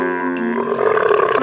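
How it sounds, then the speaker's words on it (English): A camel gives a long, deep, groaning bellow with a harmonic moan that swells louder toward the end, standing alone with no other sounds. "camel"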